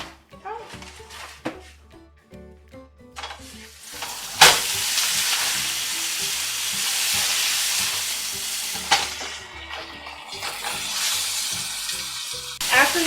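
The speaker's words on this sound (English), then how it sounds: "put your meat seasoned side down so it can start searing" A seasoned beef roast goes into an oiled pan and sears with a loud, bright sizzle, along with clattering bursts as the meat is placed, and it rises and falls while a person talks over it.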